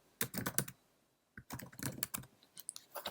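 Fingers type a location on a computer keyboard in two quick bursts of close, crisp key clicks separated by a short pause, with no talking.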